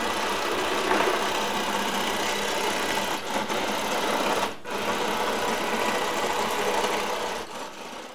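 Small wheeled robot base driving on its electric motors, a continuous close whirring drone with brief dips as it changes direction.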